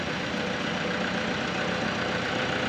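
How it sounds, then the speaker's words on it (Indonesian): A car engine idling during a pre-trip vehicle check, a steady dense rumble held at constant level throughout, close by and uninterrupted, with no talk. "Dan alhamdulillah mesin ini berjalan dengan bagus"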